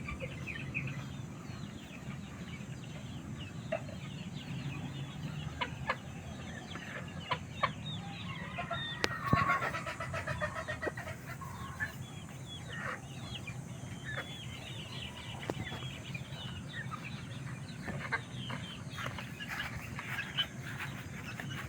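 Two- and three-month-old chickens cluck and call intermittently at a moderate distance over a steady farmyard background, with occasional sharper squawks and a brief louder burst near the middle.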